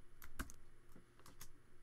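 Several quiet keystrokes on a computer keyboard, including the control key, land as scattered soft clicks in an otherwise hushed room.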